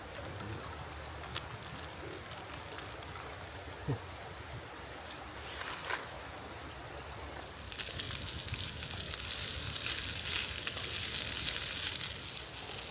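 Potatoes sizzle in a pan over a bushcraft campfire in the UK, a soft, steady frying hiss against outdoor ambience that swells louder and denser in the second half, with a few faint knocks along the way.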